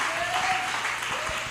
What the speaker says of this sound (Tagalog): Palakpakan natin ang ating pinakamamahal na Panginoon.